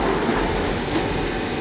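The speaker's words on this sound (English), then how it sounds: "Train goes off." A London Underground tube train pulls away from a platform with a loud, steady rumble and rushing roar that fills the whole moment, close and continuous with no talk.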